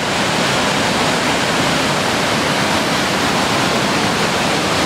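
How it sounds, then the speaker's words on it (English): The Boulder River near Big Timber, Montana, flowing hard and rushing over a drop, a loud, steady broadband roar of water with no break. "And here's the river flow."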